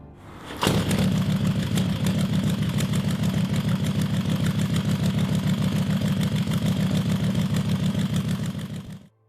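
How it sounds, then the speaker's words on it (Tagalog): A 70-degree V-twin motorcycle engine of about 4,888 cc, the largest V-twin fitted in a motorcycle frame, starts abruptly and then idles with a steady, loud, lumpy throb. It runs alone for about eight seconds before cutting off. "ito ang pinakamalaking V-twin sa isang motorsiklo"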